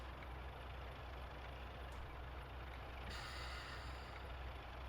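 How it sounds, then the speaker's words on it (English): Brakes applied on a Western Hydraulics train in a train simulator near Dawlish Warren, a steady loud rumbling hiss that continues throughout, with a sharper hiss joining partway through. "And now further brakes"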